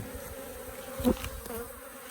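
Continuous low buzzing of many honeybees up close in an open hive, with a brief louder swell near the middle.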